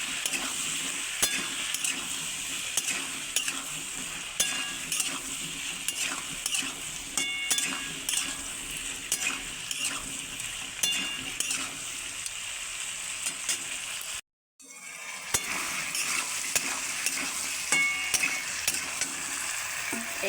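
Turmeric and chili powder are stirred into morla fish frying with bottle gourd, a continuous close sizzle broken by frequent scraping and clacking of a spatula against the pan, with one brief silent gap near the end.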